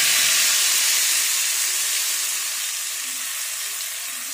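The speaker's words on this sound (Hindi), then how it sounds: "अब मैं इसमें तड़का नाज़रीन शामिल करने लगी हूँ" Loud, bright sizzling hiss as hot spiced oil tempering is poured into kadhi curry, slowly easing off over a few seconds with no voices.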